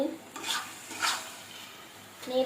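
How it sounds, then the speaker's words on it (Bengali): A spoon stirs banana flower with coconut in a pan on a gas stove, giving soft scraping and gentle sizzle in a few close, uneven strokes without talk. "এবার আমি ভালো করে নেড়ে নিই, দেখি সেদ্ধ হয়েছে কিনা"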